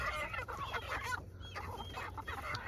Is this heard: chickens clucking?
yes